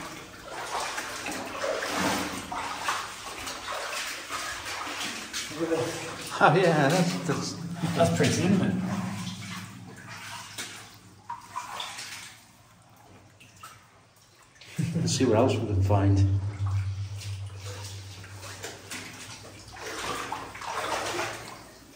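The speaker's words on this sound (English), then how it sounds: "Did you see the little white waterfall in here?" A small white waterfall trickling inside a deep cave mine, with steady splashing and dribbling water running throughout, close by and often under people talking.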